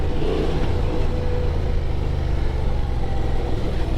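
A 2024 Honda Transalp XL 750 motorcycle ridden off-road in the desert, its engine droning steadily and close with slight rises in revs over rough ground, no talking.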